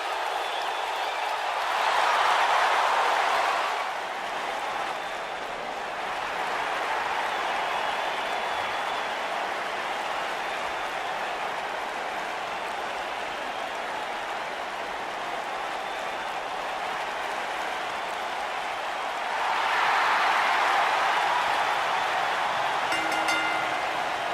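Crowd in a WWE 2K19 NXT arena, a steady broad roar of cheering and applause that swells twice, loud and continuous, heard at a distance.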